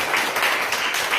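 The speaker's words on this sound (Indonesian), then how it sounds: "berikan tepuk tangan bagi Tuhan" Church congregation applauding during a sermon, a brief, loud, dense wash of many hands clapping together with no pauses.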